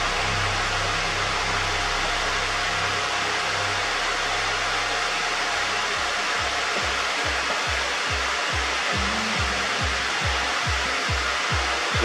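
A heat gun blows hot air around the edges of a Ford Transit Connect MK1 headlight, a steady close hiss that continues alone while a low rhythmic thumping pulses underneath.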